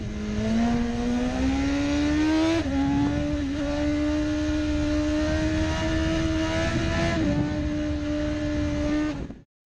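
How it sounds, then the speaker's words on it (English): A BMW 999cc motorcycle engine, rated up to 193 horsepower, drones at high revs in a steady, loud, near tone, stepping up through gears twice before cutting off abruptly at the end. "This BMW motorcycle features a 999cc engine producing up to 193 horsepower"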